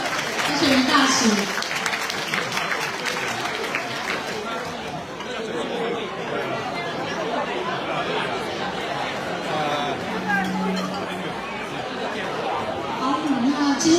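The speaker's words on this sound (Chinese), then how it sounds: "拍手一下啊！" Applause at a Foreign Affairs Ministry dinner banquet, clapping mixed with loud crowd chatter throughout, steady and sustained with a voice heard over the room noise.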